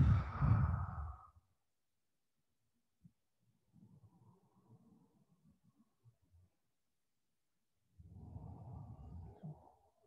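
Slow, heavy exhalations during a gentle guided breathing flow session, a soft breathy rush at the start, a fainter airy release in the middle and another long breath at the end, close and unhurried with no talk.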